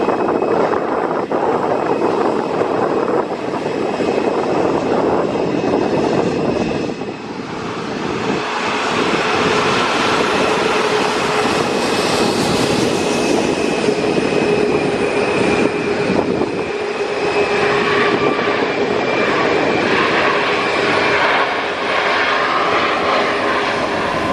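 An Airbus A320neo landing at Luton Airport on a breezy summer evening: a loud, steady jet roar that swells and fades over the whole stretch, with no voices.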